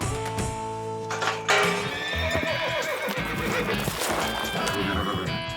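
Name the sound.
colt horse whinnying and hooves clopping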